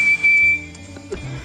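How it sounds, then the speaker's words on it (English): A dog whistle blown in one short, shrill, steady blast that stops abruptly, followed by quieter background sound. "That's a dog whistle."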